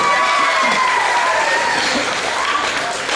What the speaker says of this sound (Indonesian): tepuk tangannya untuk rekan-rekan kalian yang ada di atas panggung